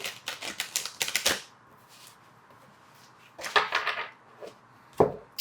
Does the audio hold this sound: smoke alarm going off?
no